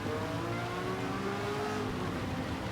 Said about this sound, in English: it gives the crowd in the stands the opportunity to hear that raucous roar of both car engines